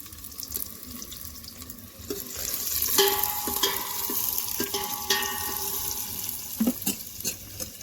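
Khichdi cooking in a pot on a wood-fired clay stove is stirred with a utensil, producing a steady bubbling sizzle broken by repeated scraping knocks, close and moderately loud, with no voices.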